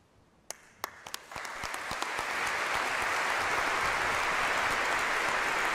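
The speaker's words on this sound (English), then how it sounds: "With their applause, the people give their assent to the Pope's choosing of bishops-elect Reed and O'Connell to their new office." A church congregation at a bishops' consecration Mass breaks into applause, starting with a few scattered claps and swelling within a second or two into steady, dense clapping that fills the large space.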